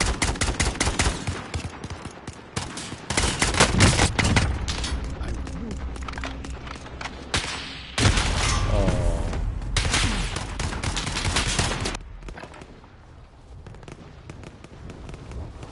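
Video game gunfire crackles in dense rapid bursts, automatic volleys and single shots overlapping loudly for long stretches, with brief lulls and some background voices.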